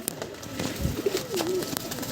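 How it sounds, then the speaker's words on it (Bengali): Tumbler pigeons kept for sale coo softly in a loft, with a low, rolling call rising over a steady background of bird noise and rustling. "আরও পায়রা আছে প্রচুর পায়রা আছে এখানে"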